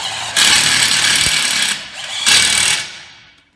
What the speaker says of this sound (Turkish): Matkabımız bu şekilde 3 milim 5 milime rahatlıkla vida atabiliyoruz